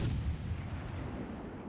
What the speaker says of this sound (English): And now Stracht will also have Amy Bartin shooting him.